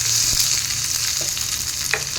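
Crushed ginger and garlic frying in a pan of oil for a Bengali dish, a steady close hiss of sizzling with a few faint stirring scrapes, no voices.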